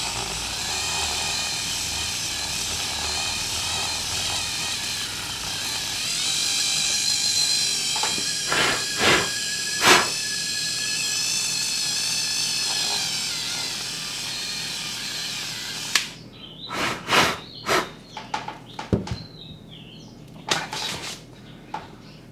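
A Dremel rotary tool drills inside a figure's cast with a sustained high whine that wavers in pitch, then cuts off about two-thirds through, leaving scattered clicks and taps from handling.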